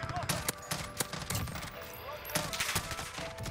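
FAMAS rifle fire in a video game during long-range shooting: several sharp, loud shots at uneven intervals over a constant bed of game noise.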